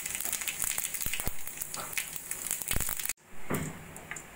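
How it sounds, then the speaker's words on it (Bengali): Cumin seeds fry in a little hot oil in a wok, a close, steady crackling sizzle with scattered pops that cuts off abruptly and then resumes more quietly. "কড়াইতে অল্প করে তেল গরম করে দিয়ে দেব জিরে ফোড়ন"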